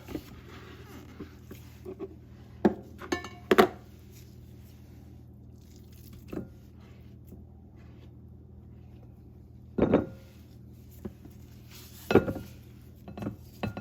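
Bowl and spatula clink and scrape while preparing ground turkey for beef stroganoff in a home kitchen, with a handful of sharp, close knocks scattered over a low steady hum and no talking.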